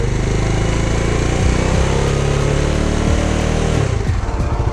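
A Bajaj Dominar 400 UG2 motorcycle engine runs steadily and close by, with a low droning rumble and an irregular rattling clatter mixed into the running noise.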